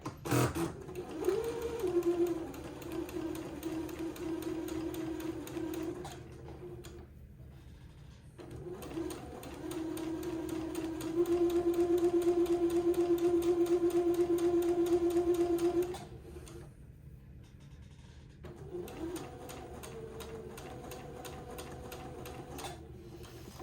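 A sewing machine runs in long steady bursts while stitching pleats on a baby daygown, with its motor whirring loudly and continuously, pausing briefly between runs, close by with no talk.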